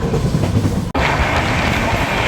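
The Rajdhani Express, train 22222 from Delhi to Mumbai, runs on the tracks with a loud, continuous rolling rumble and rattle, broken only by a momentary dip in sound.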